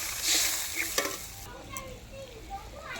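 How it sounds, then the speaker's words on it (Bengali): Fish curry broth cooks in a pot over a wood fire, with a soft continuous sizzling bubble and occasional stirring clinks, fairly close and moderately quiet. "মাছের ঝোলও ফুটে গেছে"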